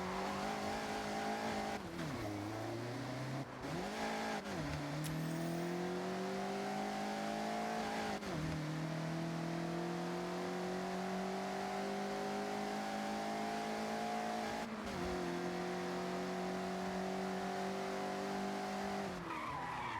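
A Mazda MX-5 in the Forza 6 racing game revs hard through corners, its engine note rising and dipping with each shift, under steady tire squeal as the car slides sideways. The sound stays loud and continuous throughout.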